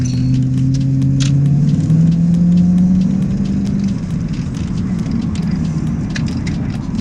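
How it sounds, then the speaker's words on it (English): Old plastic interior trim of a Lexus SC400 rattles and ticks in scattered bursts over a steady engine and road drone while the car drives. "you can hear a lot of rattling inside from you know, old plastic"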